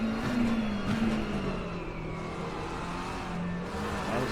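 Race cars lapping the Imola circuit in a sim racing championship: a close engine drone with a pitch that eases down and then climbs again, with a faint whir of other cars behind it.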